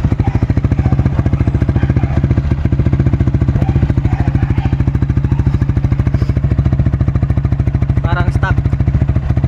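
A Yamaha Sniper 155 motorcycle fitted with a Mody5 powerpipe carbon silencer idles close by with a loud, rapid, even exhaust putter, steady throughout, with faint background chirps near the end.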